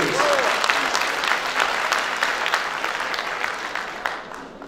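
Audience applause at a professional association meeting in Istanbul, a loud, dense round of many hands clapping that holds steady for several seconds, then gradually thins and fades at the end.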